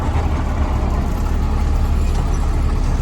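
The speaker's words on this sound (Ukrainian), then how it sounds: "Дощ шурує, там трактор бризгає, а я досуваю." Tractor working a UPS-8 seeder while sowing a field in the rain, with a steady, continuous engine drone at moderate distance and no pauses.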